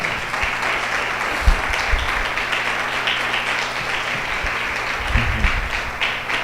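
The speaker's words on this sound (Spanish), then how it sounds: "Pueden darle a Dios un aplauso de alabanza" A church congregation claps in praise of God: a sustained wash of applause from many hands in a reverberant hall, steady throughout with a few louder bursts.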